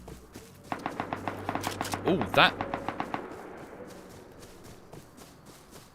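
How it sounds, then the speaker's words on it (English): In the survival game Rust, defensive turrets at a base open up in a rapid, evenly spaced burst of automatic gunfire, loud at first and then fading, with a voice exclaiming partway through. "My defensive turrets are opening up on a target."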